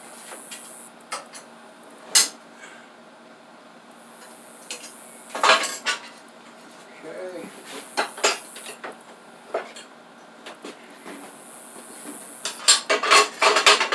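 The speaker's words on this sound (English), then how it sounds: "Okay, so take out our saw insert." A saw insert being removed from a CNC table, heard as scattered metallic clinks and knocks with sharp clattering bursts between quiet gaps, loudest near the end.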